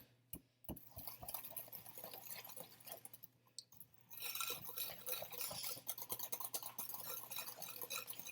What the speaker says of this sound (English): add the remainder of my egg and vanilla, and mix again